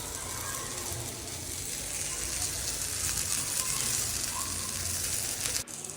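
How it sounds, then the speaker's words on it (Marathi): Fish fries on a thick tawa over low gas, giving a close, continuous crackling sizzle that holds steady for several seconds before a brief dip near the end. "मंद गॅसवरती खूप छान भाजते."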